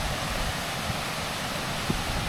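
A waterfall on the Timberline Trail pours steadily from a distance, a broad, constant rushing roar of falling water with no breaks and no voices.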